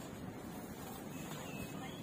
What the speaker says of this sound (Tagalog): Oh, mahangin guys.